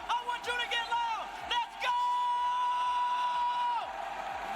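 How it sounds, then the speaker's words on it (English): Crowd at an esports watch party for a G2 Winter Major match cheering and whooping loudly, with a steady roar of many voices and a host's amplified voice over the top. "Crowd is going wild."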